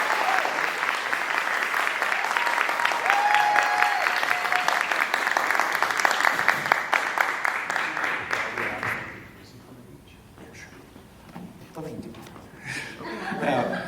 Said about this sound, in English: I just want to ask for a big round of applause for our candidates that did come tonight